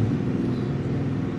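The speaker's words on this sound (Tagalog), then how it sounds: "padaanin natin tricycle guys, ang ingay" A noisy motorized tricycle rumbles close by, a steady loud low engine drone with no pause across the short stretch.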